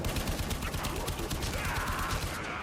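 Braton assault rifle fire in the Warframe game, a dense rapid burst of gunshots running steadily throughout, loud and close with a busy mix of other game effects.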